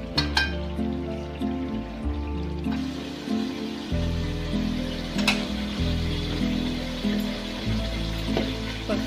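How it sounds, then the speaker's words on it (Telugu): Washed chicken pieces frying in a pan for biriyani, a continuous close sizzle with crackles and pops over a low hum, steady throughout with no talking. "ఒక 10 నిమిషాలు వేగిన తర్వాత కడిగిన చికెన్ ముక్కలు అందులో వేసుకోవాలి."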